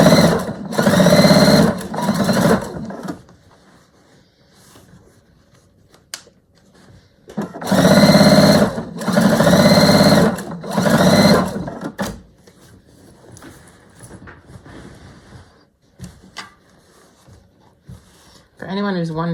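Sewing machine stitching a framed scraps quilt, close rapid mechanical whirring in several bursts of a second or two, separated by quiet pauses with small clicks and handling noises.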